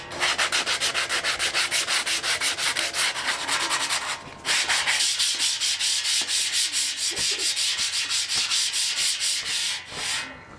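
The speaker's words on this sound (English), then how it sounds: "so that's all nice and sanded down." Continuous rhythmic sanding on a Jeep JK bumper during a DIY restoration, loud and close with fast repeated strokes, a brief pause around the midpoint, then steady scraping again.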